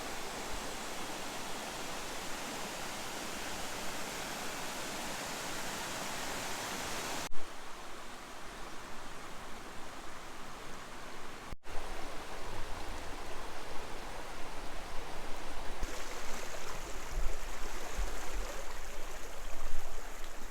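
A creek flows at the foot of a well-kept trail, giving a steady, fairly close rush of water with small shifts in texture and no voices.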